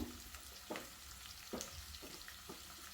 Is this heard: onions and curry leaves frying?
yes